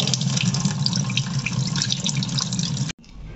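Soaked rice is washed under steadily running water, a continuous close splashing and trickling that cuts off abruptly near the end, leaving faint drips.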